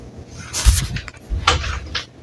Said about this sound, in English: There is a door noise.